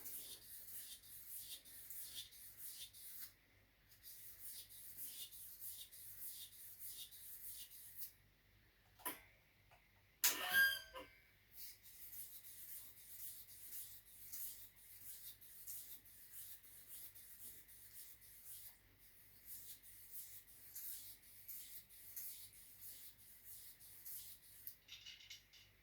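800 grit sandpaper is rubbed back and forth under firm pressure on vintage steel, a faint rhythmic rasping of repeated strokes, with a brief louder knock near the middle.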